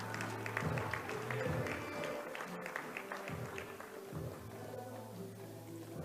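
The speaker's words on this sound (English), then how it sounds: "can we please give our go-getters a massive round of applause?" Applause breaks out from the audience at a youth employment event on food systems and agriculture, a steady wash of clapping with low background hum and some voices underneath.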